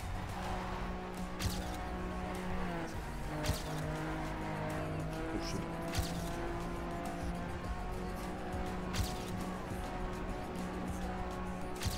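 In the TrackMania video game, a rally car races along a stadium track with a steady, droning engine and repeated tire squeal, with occasional sharp bumps and knocks cutting through the continuous roar.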